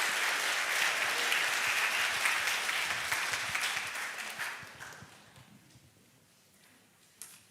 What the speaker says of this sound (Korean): 한번 힘차게 격려의 박수로 마주해 주시면 감사하겠습니다